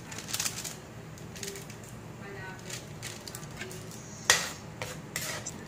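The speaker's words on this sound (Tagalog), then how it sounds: "Halo-haluin lang natin ito." A utensil scrapes and clinks against a pan in light, uneven strokes while adobong kangkong simmers, with a few sharper knocks near the end.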